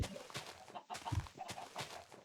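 Several short clucks from Minecraft chickens come in uneven bursts, moderately loud, with a game-like background hum.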